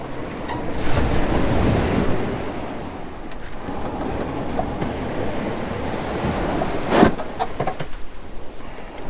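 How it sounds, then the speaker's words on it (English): Ocean waves wash up onto a beach and over long steps, a steady broad surf roar that swells and eases throughout, with wind buffeting the microphone and a brief louder rush near the end. "We got some long steps and the water is washing up right to them."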